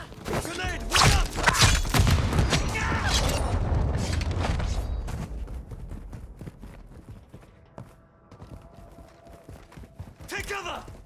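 A grenade blast and rolling gunfire in a military shooter video game, loud and dense at first with heavy booms, then thinning to scattered shots under radio chatter and game voices, with a final burst near the end.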